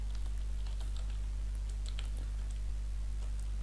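Quick keystrokes tapping out a website address on a computer keyboard, a steady light patter of clicks over a constant low electrical hum, with no talking.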